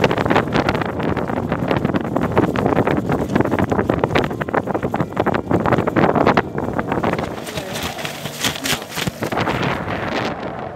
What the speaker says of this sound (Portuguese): mas a ventania não para.